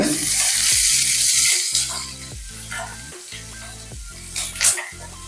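Onions frying in a pan for soya chunk biryani, a loud sizzle at the start that settles into a softer crackle, with intermittent stirring scrapes and music playing under it.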